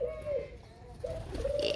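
Ringneck doves coo softly in a cage, giving two short rolling coos close by over light background noise.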